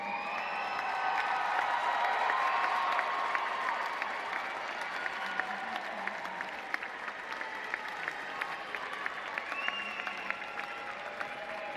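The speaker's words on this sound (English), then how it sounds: "salute them with your applause" Graduates applaud at a university spring commencement ceremony in a large hall, a steady, full wave of clapping that swells early and then holds, with scattered louder claps standing out.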